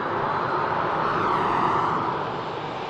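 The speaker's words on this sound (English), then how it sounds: "next aircraft to touch down is going to be this EasyJet aircraft coming in from Malta" An EasyJet jet arriving from Malta touches down at Manchester Airport, heard as a steady, loud broadband engine roar that swells slightly and then holds, with no voices.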